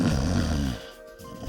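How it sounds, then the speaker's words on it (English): A sleeping person snores with a deep, rumbling inhale that fades into a quiet pause before the next breath begins. "more than 90 million people in North America snore while sleeping"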